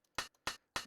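Three short bursts of bright hissing noise strike in an even rhythm, crisp electronic hi-hat hits from Mario Paint's music editor with tiny ticks between, quiet and dry.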